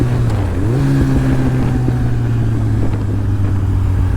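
2010 Kawasaki Z1000 motorcycle engine heard during a downshift, a loud close steady drone that jumps up in pitch as the revs rise, then holds a buzzing tone with wind noise.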